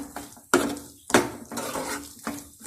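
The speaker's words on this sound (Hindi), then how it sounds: "चने डाल रही हूँ। अच्छी तरह मिक्स कर लूँ।" Chana dal stirred into a pan for chikki with the heat off: a spoon scrapes and clanks against the metal pan in several loud, close strokes with gritty rustling between them.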